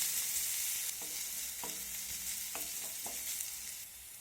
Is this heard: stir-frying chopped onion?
yes